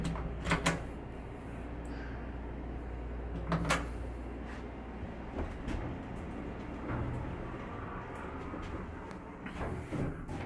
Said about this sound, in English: There is something wrong with this door. As you can tell, it opens really slowly.